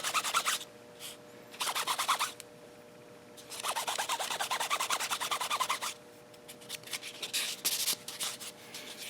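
A coin ring is buffed on the white buffing side of a Frank Flapper sanding block, giving close, dry rubbing strokes in several sustained bursts separated by short pauses, with no talking.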